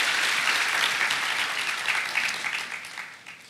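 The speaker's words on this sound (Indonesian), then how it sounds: "Boleh tepuk tangannya di-extend buat para worship leaders dan musicians." Congregation clapping for the worship leaders and musicians at a Sunday church service, a dense steady wash of applause that slowly tapers off toward the end.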